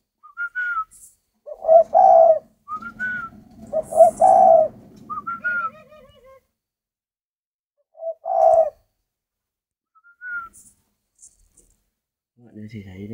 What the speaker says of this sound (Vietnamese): Đây là con chim rất thuần.